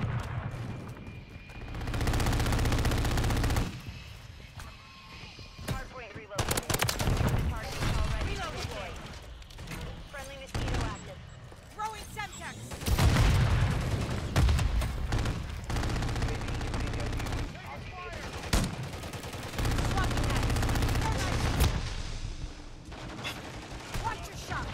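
Call of Duty MW3 shotgun and automatic gunfire in repeated loud bursts and volleys, interrupted by brief lulls, with a player talking over the action.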